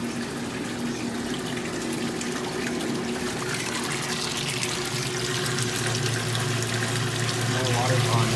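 A machine pumps water out through a hose while being unwinterized for the season, a steady loud gush and rush of flowing water with a constant low pump hum throughout.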